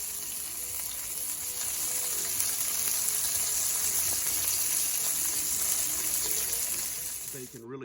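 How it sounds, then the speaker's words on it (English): Bacon strips fry in a pan for a breakfast egg sandwich, giving off a close, continuous sizzle with fine crackling throughout. A brief voice cuts in right at the end. "Gonna let that sizzle, flip it, and we'll be done pretty quick with our bacon."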